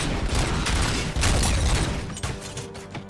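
Enemy gunfire rattles in dense, continuous bursts with booming impacts in RoboCop: Rogue City, a loud, close fusillade of overlapping shots that briefly dips and then keeps going.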